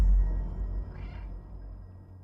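A cat's short meow from the video game Stray, heard once around the middle over a low rumbling background, fairly faint.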